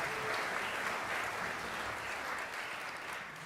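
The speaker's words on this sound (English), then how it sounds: "Give them a round of applause." An audience at a jazz ensemble concert from a music camp claps steadily, a dense, even wash of applause heard from within the hall that carries on throughout without pause.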